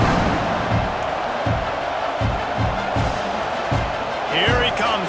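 A stadium crowd roars steadily in EA Sports College Football 26 during a kickoff, a dense, loud wash with rhythmic thumping pulses running underneath.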